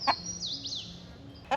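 Chickens in a backyard chicken run give a few short clucks and chirps, close and clear, with quiet garden ambience and no talking.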